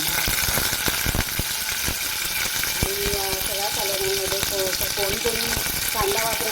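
Finely chopped garlic and curry leaves frying in hot oil, a loud continuous crackling sizzle with scattered sharp pops, joined partway through by short tonal squeaks from the pan.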